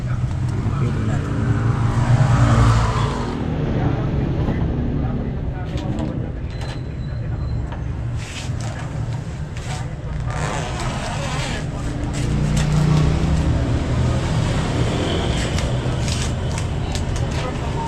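A motorized tricycle's engine runs steadily close by, a low rumbling drone throughout, with people talking over it.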